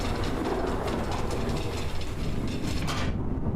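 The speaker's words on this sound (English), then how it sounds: "The train is sometimes making noises." A steady mechanical rumble of a train in The 7th Guest remake video game, a continuous rolling clatter with faint rhythmic clicking, loud and unbroken for several seconds before the high end drops away near the finish.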